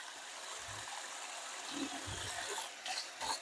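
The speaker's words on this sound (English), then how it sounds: "Rinse right off your sink because it's acrylic." Running water rinses over an acrylic sink, a steady close stream and splash with a few louder splatters near the end.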